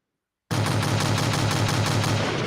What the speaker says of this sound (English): Hold on, I got some gunshots.